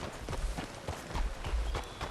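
Horse hooves clip-clop in Red Dead Redemption 2 as the rider moves through leafy, muddy ground, a steady run of soft thuds over a low rumble of game ambience for about two seconds.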